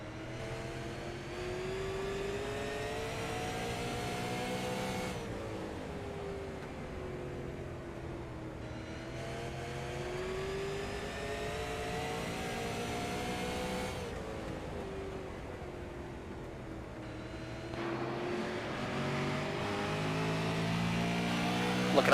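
Dirt super late model race cars roar around the track at night, engine tones rising and falling in repeated laps of revving, steady and moderately distant with no talk over it.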